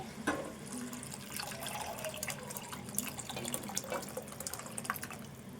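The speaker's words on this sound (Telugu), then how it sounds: "ఇప్పుడు ఈ టమాటో చారు ఇందులో పోసుకోవాలి" Tomato rasam is poured into a vessel, a faint, uneven trickle and splash of liquid with scattered drips, quiet and close.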